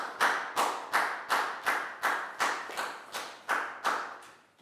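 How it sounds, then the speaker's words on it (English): Classroom round of applause from a group of pupils, a steady run of about eleven rhythmic unison clap bursts, close and lively, with no talking. "High five and a big round of applause for Prel, please, guys."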